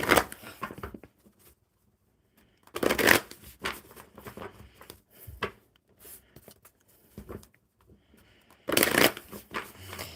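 Oracle cards being shuffled by hand in several separate bursts of riffling and sliding, close and crisp, with quiet gaps between them and no speech.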